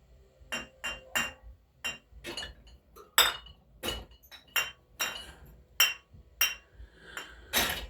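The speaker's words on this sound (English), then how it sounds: "I can hear something clinking over here" Something in a room clinks repeatedly, sharp glassy or metallic taps arriving in irregular bursts about every half second, fairly close and clear, with no talking over them.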